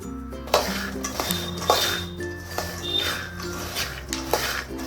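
Groundnuts roasting in a pan are stirred without pause: repeated metallic scrapes and clinks of a spatula against the pan, close and rhythmic, with a faint background hum and no talk.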